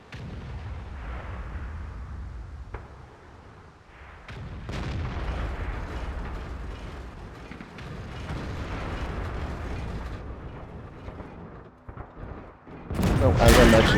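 A heavy AMX-50B tank cannon fires in World of Tanks amid a dense, rumbling battle bed of engine drone and distant blasts, with a sharp boom near the end; a voice talks over it.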